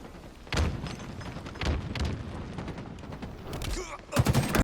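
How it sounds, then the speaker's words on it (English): Gunfire in a tactical shooter video game: several sharp, loud shots and bursts spaced across the moment, with a heavier cluster near the end, over a steady game background. "when you hear this gunfire here"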